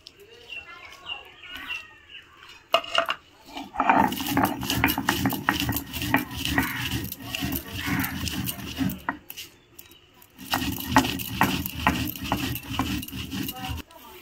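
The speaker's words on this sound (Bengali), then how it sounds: "মশলার তাপ বসে গেছে, আর সমস্ত মশলা আমি একসঙ্গে গুঁড়ো করে নেব" Roasted spices whir and rattle as they are ground together in a grinder, bursts of close, loud grinding separated by short pauses, with a voice talking in between.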